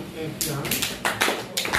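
A small class claps in a few scattered bursts of hand claps, close and uneven, with a teacher's voice before and between them.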